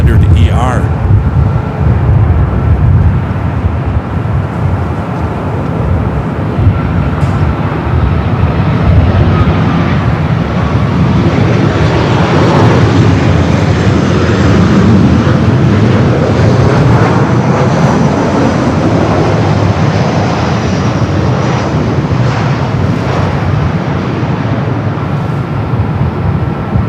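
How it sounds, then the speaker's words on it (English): An Alaska Airlines Boeing 737-900ER arriving at LAX from SFO, a loud broad jet roar that holds steady throughout, with wind buffeting the microphone. "Next arrival is Alaska, flight 212, coming up from SFO, a 737 at 900 ER."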